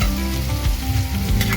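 Loud close sizzling of turnips with spices frying in a pan, stirred with scraping and thumping strokes against the metal throughout.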